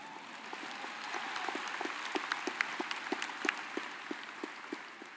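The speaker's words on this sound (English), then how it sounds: "Go ahead, you can clap." Applause from a large crowd at a university commencement ceremony, a steady dense patter of clapping heard from a distance, sustained without voices.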